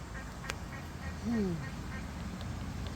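A single duck quack rises briefly over a steady outdoor background hum, moderately close, near a pond in Spokane, Washington.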